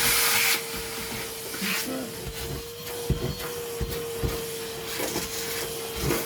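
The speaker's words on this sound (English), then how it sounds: "give that a little blast with a hoover, vacuum cleaner here, and just make sure that we've no debris in there" Vacuum cleaner blasting debris out of the recess cut for a Chubb-style mortice lock in a door, a steady hissing motor drone with a constant whine running throughout, occasional rattles and knocks of debris over it.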